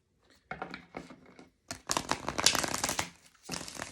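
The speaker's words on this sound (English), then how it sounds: "Let's get a good shuffle." A deck of tarot cards being shuffled by hand in a few separate riffling bursts, crisp papery flutters close to the mic with short pauses between them, no talking.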